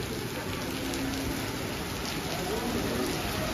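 Heavy first rainfall of the season after intense heat, a steady dense hiss of rain pouring onto surfaces nearby, with a voice faintly underneath.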